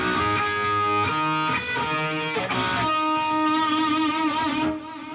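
An overdriven electric guitar plays the second phrase of a solo on the high strings: clipped, rapidly changing notes that settle into a long vibrato-wavering held note before cutting off, loud with no talking.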